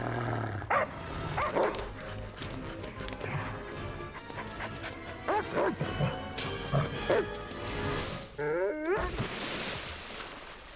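A dog barks repeatedly in sharp, close bursts spread across the clip, with scuffling and a brief whining yelp near the end.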